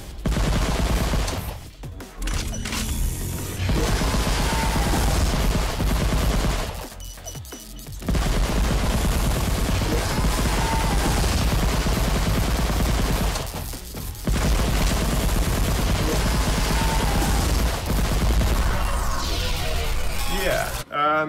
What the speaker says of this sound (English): You just gotta shoot these out of the air.